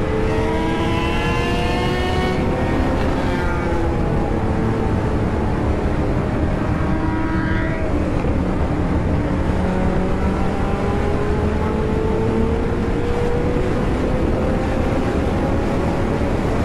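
A Suzuki Hayabusa motorcycle speeds along a highway from Delhi to Agra, its engine a loud, constant howl that climbs in pitch, drops at gear changes and climbs again, with heavy wind rush throughout.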